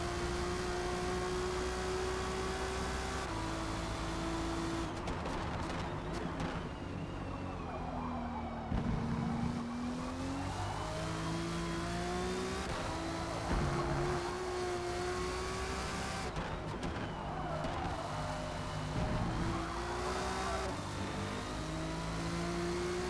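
Race cars in Forza Motorsport, including a Lexus, roar in a continuous high engine drone that rises and falls in pitch with gear changes and revving, loud and steady throughout with no talk.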